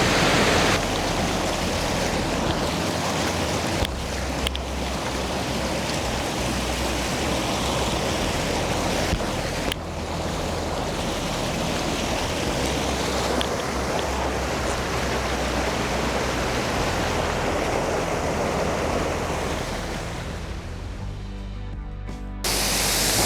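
A cold mountain stream by the Osho ashram in Dharan flows steadily, a dense, continuous rush of water close by with no break for its whole length and no voices over it.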